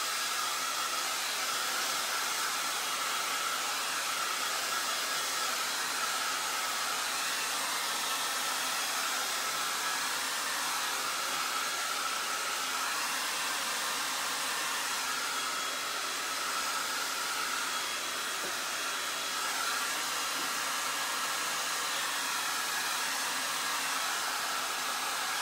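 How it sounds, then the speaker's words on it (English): A hair dryer blows steadily on wet Dixie Belle chalk paint coating a piece of furniture, a constant close, loud whooshing roar that holds unbroken for the whole stretch with no talking. "I'm going to blow dry this real quick just so we can go ahead and do the second layer."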